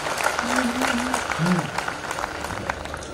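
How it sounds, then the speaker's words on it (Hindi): Audience at a Hindi poetry recital (kavi sammelan) in Gadarwara applauding a young woman poet, a steady crowd clapping with a voice speaking over it near the middle. "बहुत अच्छा पढ़ी हो लड़की, एक बार तालियां बजा दो"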